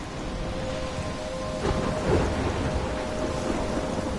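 Thunderstorm in the Life Is Strange video game: steady heavy rain with a rolling rumble of thunder building near the middle, close and fairly loud, no voices.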